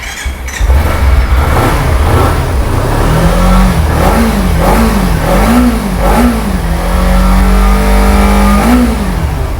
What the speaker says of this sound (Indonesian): Halus banget untuk suara mesinnya ya